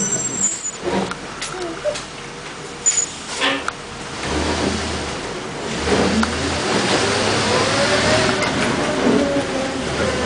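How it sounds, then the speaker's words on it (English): On a Vancouver city street near Stanley Park, a car approaches and accelerates, its engine rising from a low hum to a louder, steadier roar over several seconds, with some background traffic noise. "Looks like that car is coming."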